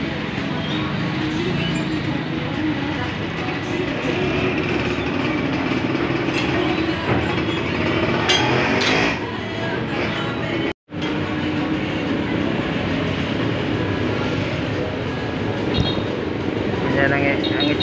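A Yamaha FZ16 motorcycle engine runs with its stock muffler removed, giving a loud, steady, raw idle drone that continues throughout. A single brief dropout near the middle interrupts it, and people talk over it at times.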